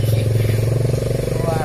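A motorcycle engine runs loud and close, a steady throbbing rumble that holds for the whole moment with a faint voice underneath.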